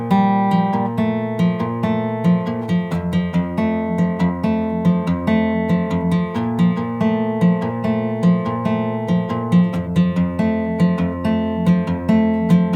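A fingerpicked acoustic guitar line with steady plucked rhythm and ringing chords, played close and clear without any voice.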